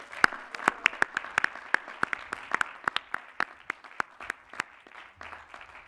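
Sparse applause for master's degree graduates at a commencement ceremony: a small number of distinct, sharp hand claps in an irregular rhythm, with faint background murmur between them, fairly close and moderately loud.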